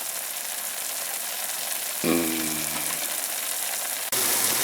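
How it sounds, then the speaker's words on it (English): Cheese dip sizzles steadily in a hot pan in a 400-degree oven, a constant crackling hiss, with a clunk partway through and a brighter hiss near the end. "Listen to that sizzle."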